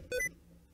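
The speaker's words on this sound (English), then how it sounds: "Oh, sticky keys." A short electronic alert beep from Windows sticky keys sounds during a Minecraft session, a single bright tone lasting a fraction of a second before fading into quiet.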